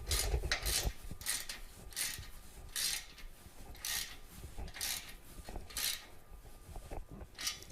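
Clamps on Vance & Hines slip-on motorcycle exhaust shields are tightened with quiet, close, repeated bursts of ratcheting and metallic rubbing that come in an uneven rhythm roughly every half second to second.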